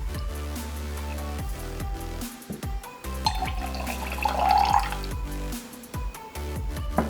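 Cranberry juice and fresh lime juice pour into a glass for a champagne cocktail, giving trickling and dripping liquid sounds against a background hum, with a few clinks along the way.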